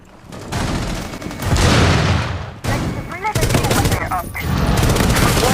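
Rapid bursts of gunfire and explosive booms in the Rainbow Six Mobile shooter game, loud and continuous, with shots crackling over a dense roar and a voice talking through parts of it.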